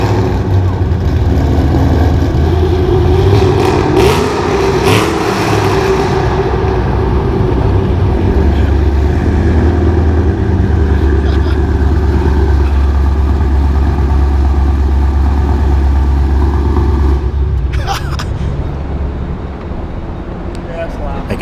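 Roush Mustang 428R with a big cam, its engine idling loud and lumpy with low rumble, swelling in a few revs before settling, steady throughout.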